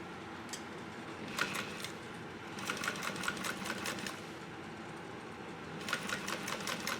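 A sewing machine stitches along a marked line on a backpack in short bursts of rapid, quiet mechanical chatter separated by brief pauses, heard close up with no speech.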